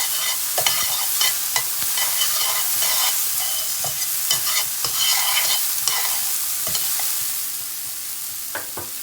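Chopped meat frying with carrots and onions in a pan, a steady close sizzle broken by repeated scraping stirs, with no talking.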